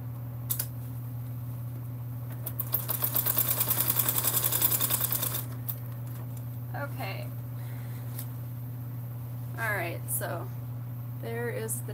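A sewing machine topstitches a summer sling bag at a lengthened stitch, running in a fast steady burst of needle strokes for a few seconds amid a constant low hum; a voice speaks quietly before and after.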